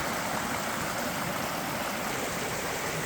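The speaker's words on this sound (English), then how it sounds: "Just a gorgeous mountain stream, probably loaded with brookies." A small mountain brook trout stream, rhododendron growing into the water, rushes and burbles in a steady, close, unbroken wash of flowing water with no talk.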